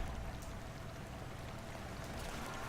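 Flowing water in the video game Super Bomberman R, a steady broadband rushing and splashing wash that runs evenly throughout at a low, faint level with no talk over it.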